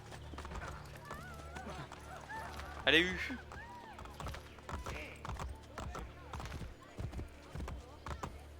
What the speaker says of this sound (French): Viens là, mon cheval.